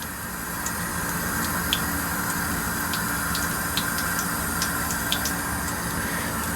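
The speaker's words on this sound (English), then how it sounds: "they like all the tremendous amount of water pressure I have here" High-pressure water gushes from a basement sink tap in a steady, loud hiss and spray, with small splashes and clinks ticking over the constant flow.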